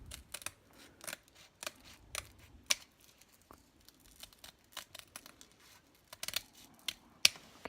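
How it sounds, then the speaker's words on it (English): Scissors snip through a hook-and-loop buddy strap in a run of short, crisp cuts at an uneven pace, close and fairly quiet, with no talking. "we'll trim it so it fits easily within a phalanx, because that's where it's going to go. So we're going to trim the side here."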